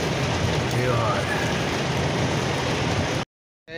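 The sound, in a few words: heavy rain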